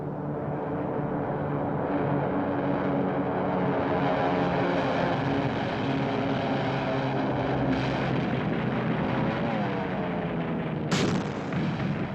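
WWII torpedo planes and dive bombers thunder overhead in a loud, unbroken propeller roar, with heavy gunfire and booms mixed in and a sharp burst near the end.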